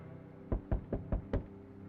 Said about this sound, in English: Now we go for the knocking.